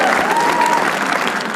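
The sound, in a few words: comedy show audience applause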